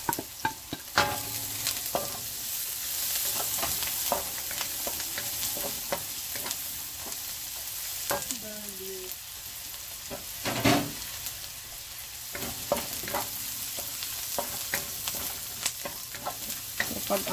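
Garlic sizzles steadily while being sautéed in a pan for an ampalaya and bacon stir fry, with the scrape and clink of stirring breaking through the constant frying hiss.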